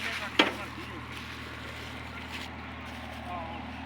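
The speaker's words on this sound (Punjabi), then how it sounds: "ਇਹ ਚੱਲਣ ਡਿਆ ਟਰੈਕਟਰ 855 ਤੇ 2 ਸਪੀਡ ਆ" A model 855 tractor runs in second gear with a steady low engine drone. A short knock comes near the start, and a person talks over the sound.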